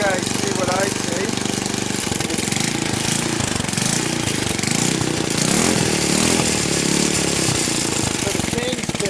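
A 150cc X-treme ATV engine runs roughly and struggles to hold idle, a loud close rattling putter that surges and sags, with someone talking over it.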